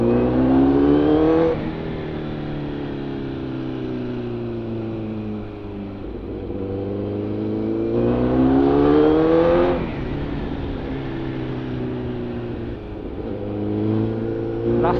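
A 450SR motorcycle pulls hard on an expressway, engine pitch climbing through repeated gear runs and dropping at each shift, loud and close under rushing wind noise.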